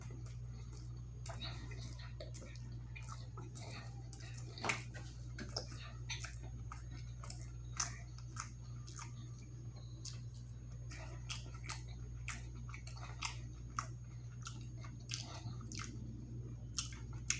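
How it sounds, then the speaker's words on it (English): Someone eating a Burger King Double Bacon Garlic King sandwich up close, with faint, scattered wet squishes and soft chewing clicks over a low steady hum. "let me take a bite of this sandwich"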